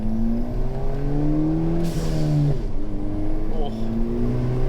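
A rebuilt Ford Fiesta ST with a short shifter pulls hard in second gear, its engine note climbing steadily and loud throughout, close to the cabin.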